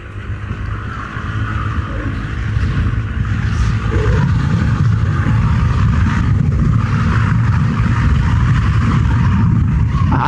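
A Yamaha NMax automatic scooter engine on a test ride, a steady, fairly loud motor drone with a low rumble, rising slightly as it picks up speed and then holding even, with wind noise and no talk.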